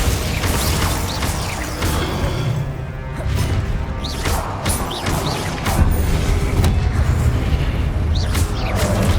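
Confringo, Incendio and Glacius spells are cast in Hogwarts Legacy combat, giving a steady stream of whooshing blasts, crashing impacts and booming hits layered densely and loudly over a churning mechanical din.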